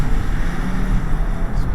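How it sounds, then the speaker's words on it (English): Volkswagen Tayron hybrid SUV accelerating hard in sport mode, its engine a steady, loud low drone with broadband road and wind noise throughout, no talk over it. "Engine's a bit more prominent now. I can definitely hear it."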